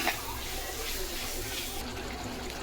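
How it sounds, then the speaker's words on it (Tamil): Tamarind water is poured into a pan of garlic curry, giving a steady, fairly loud liquid pour and sizzle that runs throughout. "புளி தண்ணி ஊற்றிக்கலாம்"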